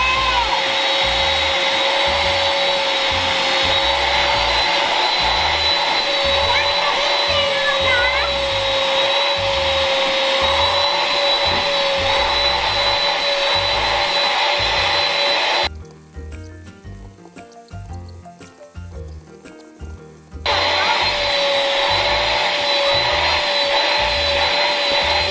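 A household electric cleaner whirs loudly and steadily at close range, with a high whine that cuts out for about five seconds before starting up again.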